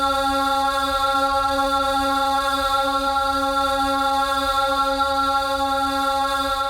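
Dense, sustained drone of layered tape loops of sung vocal notes, steady and unchanging, with a faint hiss beneath; no talking.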